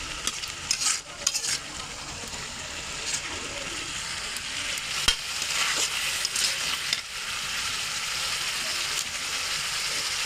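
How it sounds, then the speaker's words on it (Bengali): Spices and chopped tomato fry in oil in a pan for a fish-head muri ghonto. A loud, even sizzle continues with occasional clinks and scrapes from stirring. "এই যে মশলাটা ভাজা ভাজা হচ্ছে"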